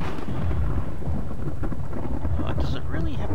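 Steady rain with deep rumbling thunder in a video game storm, a loud continuous wash throughout with a brief faint voice-like sound near the end.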